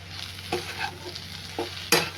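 Wild vegetables cooking in a pan are stirred, producing a soft sizzle with several scraping strokes of a spoon, ending in a sharper clack, close and moderately loud, with no voices.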